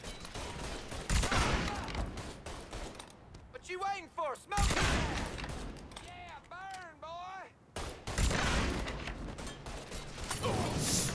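Gunfire in the Mafia III video game, loud bursts of shots and mechanical clatter coming in several rapid volleys, with someone talking in between.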